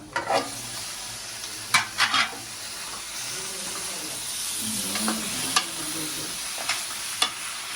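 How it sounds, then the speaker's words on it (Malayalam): Chicken sizzles and fries in a pan while a utensil stirs and scrapes, with several sharp clinks standing out over the steady hiss. "വൃത്തിയാക്കി വെച്ചിരിക്കുന്ന ചിക്കൻ ഇതിലേക്ക് ഇടുക."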